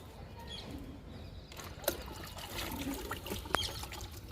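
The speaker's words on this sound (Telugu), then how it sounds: "లిక్విడ్ ఇస్తున్నా ఎడేనియం వింకా ఉన్నాయండి ఈ రెండింటికి ఇచ్చేద్దాము లిక్విడ్ని" Liquid fertilizer poured onto potted adenium and vinca plants in summer, a soft steady trickle with faint splashes and a couple of brief clicks, heard close and quiet throughout.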